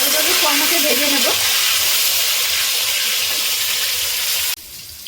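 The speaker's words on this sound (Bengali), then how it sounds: "কড়াইতে ভেজে নেব।" Chicken kosha ingredients fry in a hot kadai with salt added. A loud, crackling sizzle with stirring scrapes runs steadily, then cuts off abruptly near the end.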